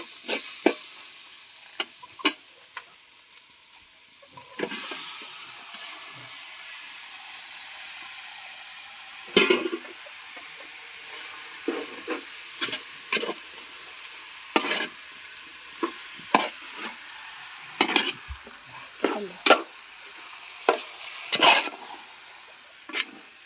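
Masala-marinated chicken sizzles steadily in a hot pan while a spoon stirs it, sending frequent sharp scrapes and clacks over a constant hiss of frying.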